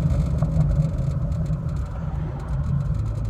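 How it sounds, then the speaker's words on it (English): Cabin noise inside a moving car: a low engine and road rumble with a soft whirring hum, steady and close, with no talking. "It's not the quietest of cars when you're sitting in it driving."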